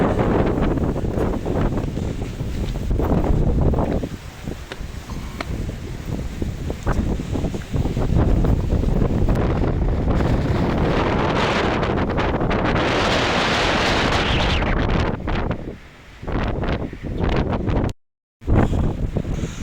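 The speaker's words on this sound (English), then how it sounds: "Oh, it's really windy." Strong wind roars and buffets against the microphone in loud, continuous gusts on a summit on Fitzroy Island, briefly dropping out near the end.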